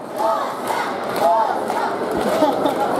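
Crowd at an outdoor Independence Day concert and contest in Chervonohrad chants loudly in steady rhythmic bursts, a dense mass of voices filling the space, with some scattered clapping underneath.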